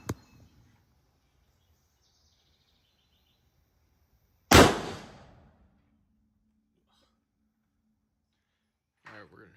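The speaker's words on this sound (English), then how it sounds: "I'm gonna do a shoot 3-shot group and see how these Norma shoot." A single sharp, loud rifle shot from a Ruger American Gen 2 chambered in 7mm PRC firing a Norma round at an outdoor range, a sudden crack with a quickly fading tail, surrounded by near silence and faint noises.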